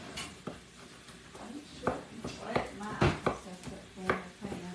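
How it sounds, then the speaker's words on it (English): Onions are chopped small with a knife on a cutting board, giving irregular sharp knocks spaced roughly every half second, moderately close, amid light kitchen clatter and a person talking. "Now I'm just chopping up the onions small."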